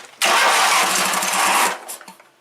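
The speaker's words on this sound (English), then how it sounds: "it'll fire up, and then you gotta throw the throttle up, and then choke it." Briggs engine on a Wheel Horse GT-1800 riding mower cranking and catching, a loud, close roar that holds steady for over a second, then cuts off abruptly and fades out.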